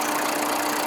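A 2006 Tata Indigo CS diesel car engine idles with a steady, even drone, close and moderately loud, with no voices.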